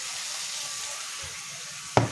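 Vegetable bhaji of soybean, potato and tomato sizzles steadily in a pan, close and even, with a brief clatter at the end.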